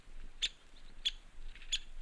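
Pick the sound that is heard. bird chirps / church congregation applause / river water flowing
bird chirps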